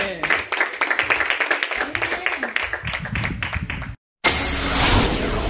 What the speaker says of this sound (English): Come on and clap your hands in this place.